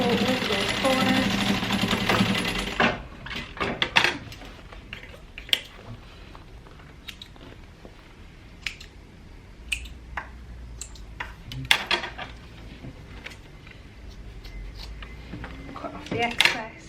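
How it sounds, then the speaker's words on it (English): Close, loud sewing machine whirring for about three seconds while sewing over bag corners at a 3/8-inch seam, then quiet fabric handling with scattered clicks and taps. "So at the 3/8 of an inch, I'm just going to sew over those corners"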